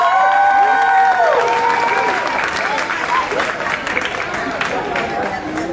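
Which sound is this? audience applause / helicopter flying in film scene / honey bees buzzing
audience applause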